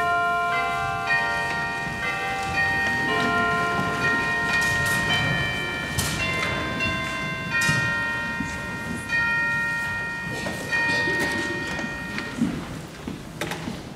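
Sustained ringing chimes at a Sunday church worship service, overlapping bell tones sounding one after another and sustaining over a murmuring room for several seconds.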